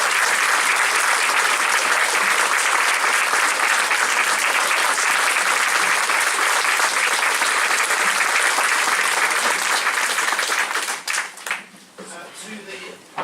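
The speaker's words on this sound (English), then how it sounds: "Stand up and take a round of applause." Audience applause for the Romford Drum and Trumpet Corps fills a hall, steady dense clapping sustained for about eleven seconds before thinning out and tapering near the end.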